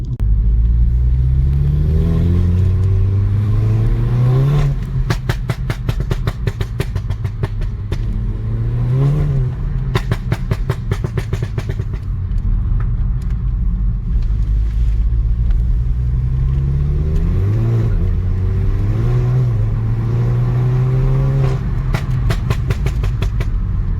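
Stage 1 Mk7 Golf GTI with a six-speed manual and about 320 bhp, accelerating repeatedly through the gears with a deep engine rumble, pitch climbing then dropping at each shift, heard from inside the car.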